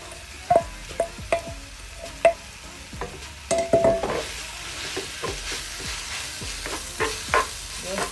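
Okra is tipped into hot palm oil for a fisherman soup and stirred. Steady close sizzling runs throughout, broken by repeated sharp scrapes and taps of the spoon against the pot, with no voices.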